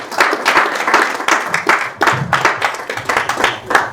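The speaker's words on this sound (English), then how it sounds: "Please, a big round of applause as we welcome Dr. Ifunanya." An audience at a digital health panel discussion applauds to welcome a panelist, a dense, steady round of clapping that is fairly close and loud throughout, with no talking over it.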